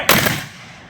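Civil War reenactors fire a black-powder musket volley outdoors at a demonstration in Byron Center, Michigan: one loud, sharp blast with a ragged, slightly spread crack that trails into a long rumbling echo.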